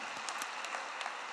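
Distant, soft applause from a church congregation after a choir's hymn, a brief steady patter of clapping.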